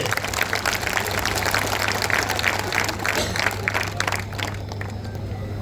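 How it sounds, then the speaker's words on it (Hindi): A large crowd at an outdoor political election rally in Jharkhand applauds and claps loudly and continuously, with babble and a steady electrical hum underneath, tapering slightly at the end. "हुसैनाबाद के नौजवान एक बार ताली बजाकर जोरदार इनका स्वागत कीजिए।"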